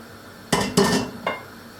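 Potatoes dropped into a pot of boiling water for Turkish boiled chicken stew, giving three close clattering splashes and knocks against the pot in quick succession, with no talking.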